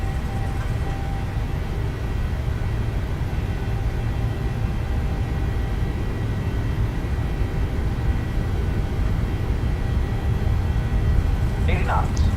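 Jet engines of a PMDG 737-800 in Microsoft Flight Simulator 2020 hold takeoff thrust as a steady, dense roar with a low rumble, continuous and even throughout, with a brief faint sound near the end.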